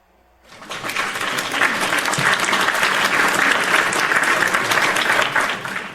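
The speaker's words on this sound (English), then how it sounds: "go ahead, hit my hand claps." A hand claps applause sound effect played during a podcast swells in quickly and holds as steady, loud crowd clapping for several seconds before tapering at the end.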